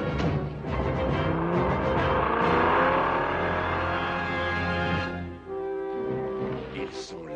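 Cartoon car driving off, engine revving and rising in pitch as it pulls away, then settling into a lower hum that fades slightly toward the end.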